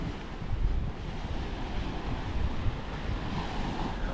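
Steady surf washes onto a white-sand beach on Kanifushi island in the Maldives, a continuous rushing roar mixed with wind buffeting the microphone, close and fairly loud with no one speaking.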